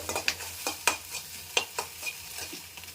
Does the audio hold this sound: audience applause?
no